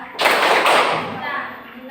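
A class of seventh-grade students stands and performs the Tepuk Pancasila clapping chant, a loud burst of many hands striking together in a dense, rhythmic wash, with voices mixed in.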